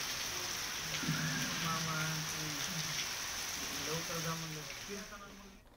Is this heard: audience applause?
no